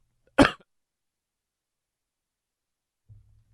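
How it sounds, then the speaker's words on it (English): One sharp, close cough stands alone, followed by near silence and a faint low rumble toward the end. "And there was another cough."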